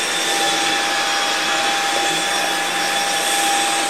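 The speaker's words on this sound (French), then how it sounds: "il fait vraiment très très peu de bruit par rapport à des aspirateurs que j'ai pu avoir" A Jimmy PW11 Pro Max wet floor vacuum cleaner runs close by with a steady, even motor whine and airy hiss and a constant high tone, uninterrupted and without voices.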